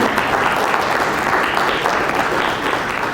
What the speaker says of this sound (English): Please give them a huge round of applause once again.